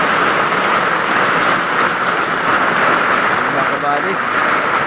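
Heavy rain pours steadily onto a farmhouse roof during a typhoon, a dense, continuous hiss that stays loud throughout, with someone briefly speaking over it.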